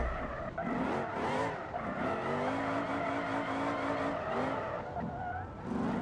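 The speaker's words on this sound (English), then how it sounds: "I forgot how touchy this drift car is with how much power it's got running through it." A high-powered drift car in a racing game, engine droning steadily while tires squeal and skid through a long slide, pitch wavering as the car twitches, continuous and fairly loud.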